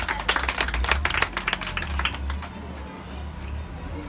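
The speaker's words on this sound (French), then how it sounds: "Applaudissez s'il vous plaît." A crowd of children and adults claps at a school event in Cap-Haïtien, a short burst of quick, close applause that fades out after a couple of seconds.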